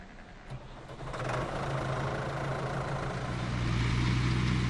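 A big blue tractor's engine starts up, then settles into a steady low idle with a rhythmic knock that grows slightly louder, close by and with no voices.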